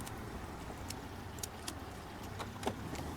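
Faint metallic clicks and light rattles from car lockpicking in the video game Mafia: Definitive Edition, scattered irregularly over a steady low background hum, with a slightly stronger tick near the end.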